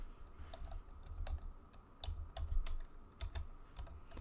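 Computer keyboard typing, adding short text to a card design in Photoshop: a brief run of close, crisp key clicks in irregular bursts, with no talking.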